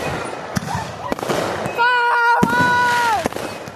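Fireworks burst outdoors in a series of sharp, loud cracks and pops, with a rising whistle or whine gliding between blasts and voices faintly in the background.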